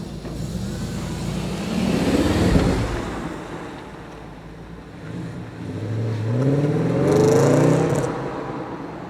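A 150,000-mile Audi RS4 with a 4.2-litre V8 revs twice, each rise climbing to a throaty peak and falling back to idle, heard up close with no talk.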